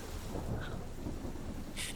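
Steady rain and low rumbling thunder form a continuous storm ambience backing a tabletop roleplaying game session, loud and unbroken with no talk over it.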